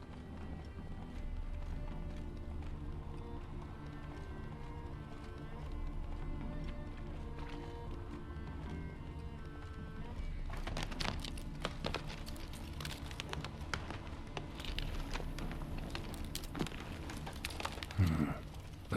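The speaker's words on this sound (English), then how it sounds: "Heavily laden horse." Steady clip-clop of a heavily laden horse's hooves in The Witcher video game, running over a constant background of game music and ambience, with the hoofbeats getting busier in the second half.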